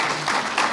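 Audience applause at the end of a talk, a short stretch of dense, steady clapping from a crowd.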